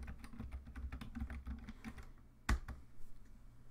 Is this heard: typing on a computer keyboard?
yes